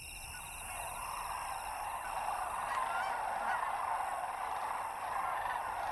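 Grey cranes calling from a small lake island in Siberia, a dense, continuous chorus of honking bird calls with steady background noise and no speech.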